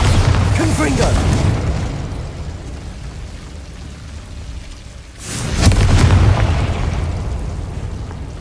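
Bombarda and Confringo spell explosions in Hogwarts Legacy: a booming blast at the start, then a second heavy burst midway, each trailing into a long rumbling decay.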